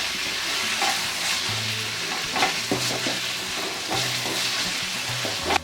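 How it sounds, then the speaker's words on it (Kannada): Soaked moong dal fries and sizzles in a pan for a cabbage palya, a steady close hiss with scraping and clattering of a spoon stirring throughout, no voices. "ಇಲ್ಲಿ ಹೆಸರುಬೇಳೆ ಕೂಡ ಸ್ವಲ್ಪ ಫ್ರೈ ಮಾಡ್ಕೊಂಡಿದ್ದೀನಿ 2 ನಿಮಿಷಗಳ ಕಾಲ"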